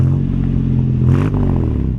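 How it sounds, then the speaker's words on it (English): A 1952 Chevrolet Deluxe engine fitted with a Fenton header, idling loud and close with a low throbbing rumble, then a short rev that swells and settles back to idle. "let me go to the back here and let you hear it run. I'll get him to rev it up just a little bit."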